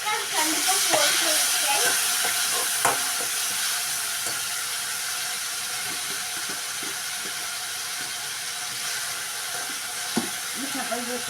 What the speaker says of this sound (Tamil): தக்காளி நல்லா வதங்கிடுச்சு ஃப்ரெண்ட்ஸ்